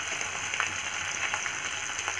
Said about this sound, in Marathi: लसूण आणि आल्याची पेस्ट घालत आहे आणि चांगलं परतवत आहे मी आता